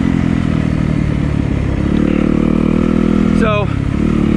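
A Yamaha YZ250FX dirt bike engine runs loud and close with a steady throbbing tone, briefly revving with a quick rising-and-falling sweep near the end.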